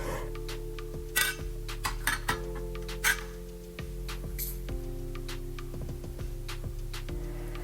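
Metal drip pans set back onto an electric stovetop, a few sharp metallic clinks and clatters scattered over a steady background hum, close and moderately quiet.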